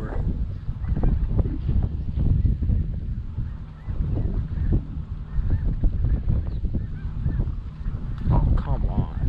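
A flock of snow geese calling during a hunt, with a dense, continuous chorus of honking from many birds that stays loud and steady throughout.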